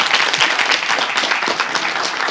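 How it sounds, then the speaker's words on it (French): An audience claps and applauds continuously for a couple of seconds, a dense, even patter of many hands at moderate loudness. "Applaudissez pour lui, pour moi."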